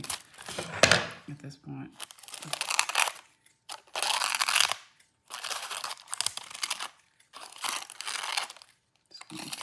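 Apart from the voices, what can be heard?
cutting down paper ephemera for book art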